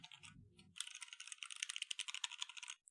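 Rapid clacky keystrokes on a computer keyboard, close and crisp, a quick burst of typing after a short rattle.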